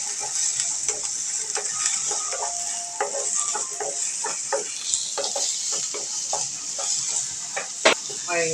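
Onions added to hot oil with mustard seeds and curry leaves for okra thoran, sizzling steadily while a spoon scrapes and taps the pan in irregular strokes, close and alone.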